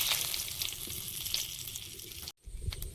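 Dried red chillies and bay leaves frying in oil in a pan, a close, steady crackling sizzle that cuts out briefly near the end and then resumes.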